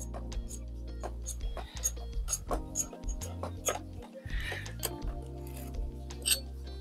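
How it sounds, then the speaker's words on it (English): A strimmer head is threaded by hand onto a Titan 5-in-1 backpack multi tool, giving a run of close, small metallic clinks, scrapes and ratcheting rubs in an irregular rhythm. "Pretster, that's how you get your strimmer head on"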